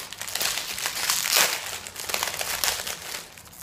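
Surprise packet ripped open by hand: close, continuous crinkling and crackling of plastic wrapping that lasts several seconds, with no voices.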